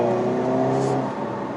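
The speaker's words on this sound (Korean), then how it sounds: "배기음도 딱 들리죠." A Hyundai Kona N in N mode accelerating, its exhaust giving a loud, steady engine drone with a rising tone that eases off slightly near the end.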